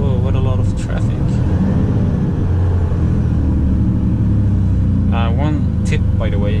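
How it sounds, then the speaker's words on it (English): A Volvo FM 410 truck pulling a trailer through Stockholm traffic, its diesel engine brake giving a steady, loud, low rumble throughout, with a voice talking over it at the start and near the end. "like you see now, I use the engine brake"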